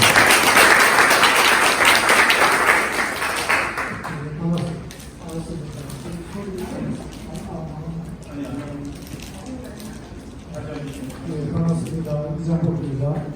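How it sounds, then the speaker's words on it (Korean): An audience at a Korean language forum claps in welcome, a loud dense burst of applause that fades after a few seconds into talking. "여러분 큰 박수로 환영해 주시겠습니다"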